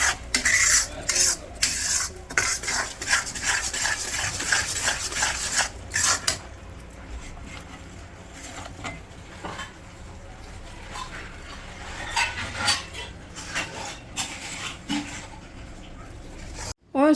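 Semolina roasted in a pan for suji halwa gives a steady scraping, rasping stir of a utensil against the metal, loudest in the first six seconds, then softer intermittent scrapes with faint background noise.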